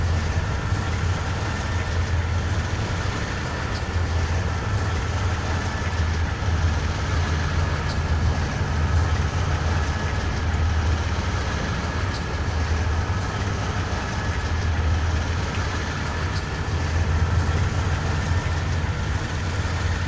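A very heavy grain train in Train Simulator 2019, led by a CN/IC locomotive, climbs a 0.4 grade on Marias Pass out of the yard. A continuous low engine drone and rolling rumble hold steady throughout.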